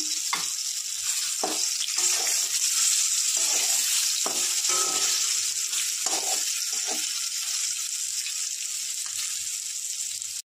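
Eggs and potatoes sizzle steadily in a hot pan, a continuous frying hiss with occasional stirring scrapes and pops while a Bengali egg fried rice dish is cooked.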